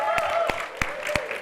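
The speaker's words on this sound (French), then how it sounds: "On s'applaudit." A handful of evenly spaced hand claps from a church congregation at a Sunday service, four sharp near claps over a sustained tonal background.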